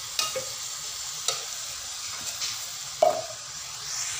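Food stirred in a frying pan over a steady low sizzle, with a few sharp scrapes and clicks of the spoon against the pan, close and fairly quiet, no voices.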